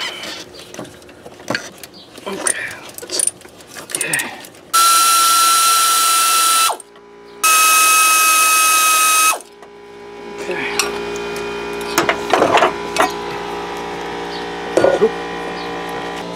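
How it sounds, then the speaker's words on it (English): A ratchet works on the 9/16 bolts of a car's crankshaft pulley during a twin-turbo build, with the crank held by a strap wrench. It gives loud, sustained mechanical bursts and brief clicks in a workshop. "As he's trying to crack the 9/16 bolts in there."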